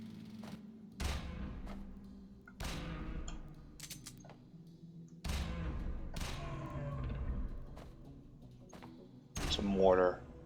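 Mortar fire in the game Jupiter Hell, heard as several heavy, muffled thuds and booms at irregular intervals over a low rumbling background, with a brief sharper burst near the end.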